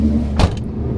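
A GM car with a manual gearbox drives after its VATS security system has been bypassed, a loud steady interior engine and road rumble with a brief mechanical whir partway through, no talking.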